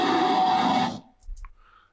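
A simple monster creature growl, pitch-shifted and processed with EQ, compression, light ambient reverb and stereo widening, sounds for about a second, then cuts into a short reverberant tail with a few faint clicks.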